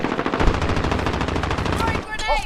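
Automatic gunfire in Call of Duty: Warzone rattles in a loud, rapid, continuous burst, then breaks off. Brief voices and game sounds follow near the end.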